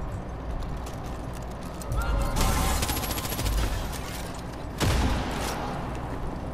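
Rapid automatic gunfire in the video game Far Cry 5 erupts in a loud sustained burst mid-clip, then a second sharp blast follows, with faint voices underneath.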